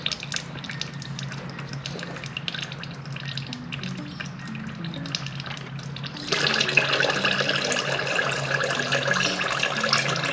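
Engine oil pours from a Volvo XC60 oil filter housing into a drain pan, a steady liquid trickle that becomes a louder, fuller splashing stream partway through, with no talking.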